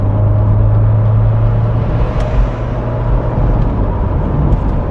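A Citroën BX 16V drives along a road with a steady, close engine drone and low rumbling hum heard from inside the car, unbroken and without speech.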